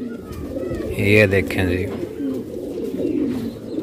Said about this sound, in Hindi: पीला जोगिया कबूतर है